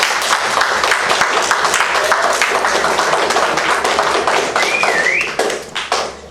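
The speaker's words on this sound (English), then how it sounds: "Let's give class 54 a round of applause" Audience applause at a youth program's 1st Platoon, Class 54 graduation ceremony: dense, steady clapping from a crowd, loud and close, tapering off near the end with a faint whistle.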